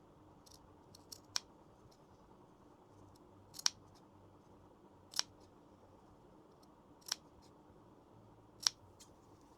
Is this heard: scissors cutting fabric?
yes